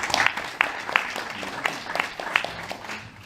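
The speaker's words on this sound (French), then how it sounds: "On l'applaudit." Audience applause at the opening of a short-film festival at a Paris venue, a continuous wash of clapping with a few sharper claps standing out and faint voices murmuring underneath.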